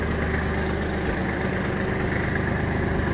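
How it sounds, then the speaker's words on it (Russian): A Kubota GL23 mini tractor engine idles with the PTO engaged to drive a rotary tiller, a loud, steady, close diesel drone with constant vibration and no voices. "давайте еще включим вал отбора мощности на фрезу"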